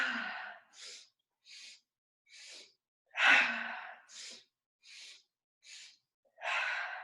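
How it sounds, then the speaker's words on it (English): Forceful exhaled breaths during a breathwork exercise, bending forward with each one. About ten separate breathy bursts come at an uneven pace, close and fairly soft, with two stronger pushes among them and no talking. "really giving a powerful ha as you bend forward and exhale"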